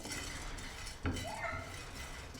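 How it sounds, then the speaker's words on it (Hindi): A spoon scrapes and clinks against a pan while whole spices such as cumin and coriander seeds roast over a medium flame; one sharp metallic knock stands out amid faint, quiet stirring noise. "तकरीबन 2 से 3 मिनट हम इसको रोस्ट करेंगे और मुसलसल इसमें चम्मच हिलाते रहेंगे।"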